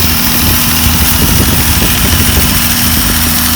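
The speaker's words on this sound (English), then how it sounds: "Got a little radial motor running down here" A small radial engine runs steadily at an outdoor engine show, a loud continuous throbbing drone heard up close with no talking.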